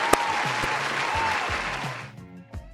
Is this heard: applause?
yes